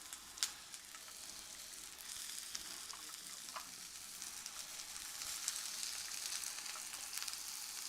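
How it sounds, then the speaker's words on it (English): Quiet, steady sizzling of bok choy, broccoli and other vegetables stir-frying in a hot pan, a soft crackling hiss with occasional small pops and clinks, no voices. "You can hear the sizzle, which is a very surefire sign that your pan is hot."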